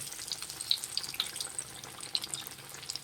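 Capsicum bajji frying in oil over a low flame, giving a faint, steady crackle and hiss with scattered small pops, with no talk.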